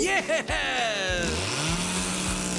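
A cartoon saw cuts through wood for a homemade slingshot build, a buzzy rasping drone with sliding tones and bright cartoon-style sound effects over it.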